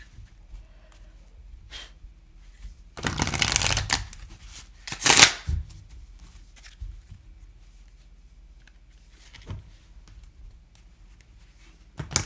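An oracle card deck with deck mod markers is riffled and shuffled in two bursts of crisp card flutter, with quieter handling and soft taps between them.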